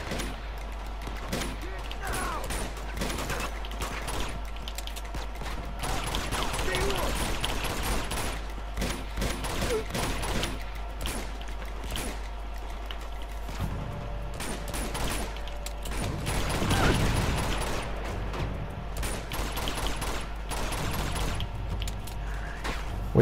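Heavy machine-gun fire from a big gunner enemy in the video game Uncharted 2: Among Thieves, sustained loud bursts layered with game noise and faint talk throughout.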